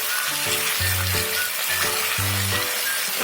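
Spices with tamarind and curry leaves sauté in hot oil in a kadhai, a soft continuous sizzle with low humming underneath, fairly close.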